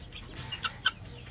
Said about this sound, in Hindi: ये है वो गिनी फॉल,